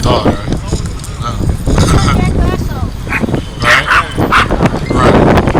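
A dog barks and yips several times in short bursts while people talk over and between the barks.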